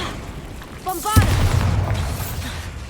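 A Bombarda spell explosion in the video game Hogwarts Legacy: one sudden deep boom that swells into a rumbling blast and lingers for over a second, loud and close, with a brief spoken exclamation just before it.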